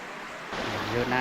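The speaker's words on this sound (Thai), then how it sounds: "แล้วก็มีน้ำไหลออกมาแบบนี้เนาะ" Water flows out from the mouth of a cave in Vang Vieng, Laos, as a steady broadband rush that grows louder partway through, close by, with a voice speaking over it.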